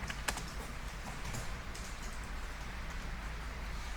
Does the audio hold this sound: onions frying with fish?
no